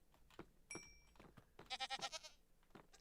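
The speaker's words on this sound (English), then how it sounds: "It's a baby goat!" A baby goat in Minecraft gives a quick, wavering bleat, close and clear, preceded by faint soft shuffling and a thin electronic tone.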